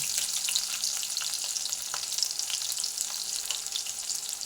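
Chopped garlic dropped into hot oil where green chillies were just fried, giving a continuous bright crackling sizzle, close and fairly even throughout.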